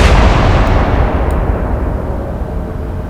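Heavy naval gunfire in the Atlantic Fleet video game, a loud booming blast already rolling at the start and slowly decaying into a dense low rumble, with no voices over it.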